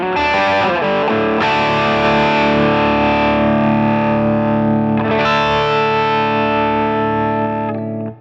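Electric guitar played through an OCD overdrive pedal preset, giving a thick, distorted tone: one chord rings out, is restruck around one second and again near five seconds, each sustaining loudly and evenly to the end.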